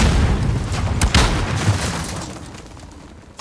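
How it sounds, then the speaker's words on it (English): A grenade explodes during a team deathmatch round of a first-person shooter video game: one loud, close boom bursts out and then slowly rumbles away into fading noise. "Grenade out!"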